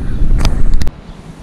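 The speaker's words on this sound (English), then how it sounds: "The wind started to get up now." Gusts of wind buffet the microphone outdoors beside a park lake, a loud low rumble with sharp bursts before dropping to a quieter background.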